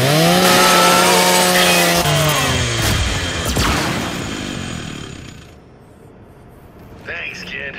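Lancer rifle chainsaw from the video game Gears of War 5 revving and grinding through a metal custodial robot, a loud harsh whine that bends in pitch, then fades as game sounds continue.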